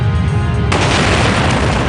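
A single heavy explosion from a torpedo blast aboard the Kursk submarine, a loud booming burst that suddenly floods everything with dense rumbling noise and holds through to the end.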